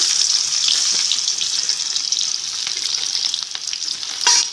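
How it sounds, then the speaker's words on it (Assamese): Chopped onions and cumin seeds hit hot oil in a pan with a loud, steady, hissing sizzle, close by, with a few faint stirring knocks toward the end. "মই কেইটামান জিৰা দি দিছোঁ ইয়াতে। আৰু এই কাটি লোৱা পিঁয়াজখিনি মই ইয়াত দি দিছোঁ।"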